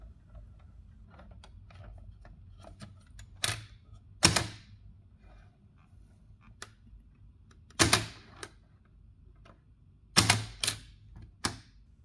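A 1924 Gundka 5 typewriter with a Hebrew keyboard being typed on, soft key ticks mixed with several loud, close mechanical clacks at irregular intervals and quiet pauses in between.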